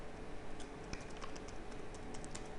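Code is typed on a computer keyboard, with soft, irregular keystrokes tapping close by at a low level against a faint background hiss.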